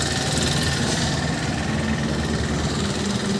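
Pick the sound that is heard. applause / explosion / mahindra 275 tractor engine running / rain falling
mahindra 275 tractor engine running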